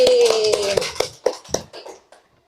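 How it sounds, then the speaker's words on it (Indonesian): A sixth-grade class in a science lesson claps, with a burst of sharp hand claps over a sustained voice or tone that fades into a few scattered, separate claps. "Tepuk tangan lagi."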